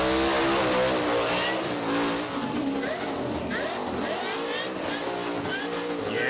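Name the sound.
burnout car tip-in revving at Summernats Burnout Masters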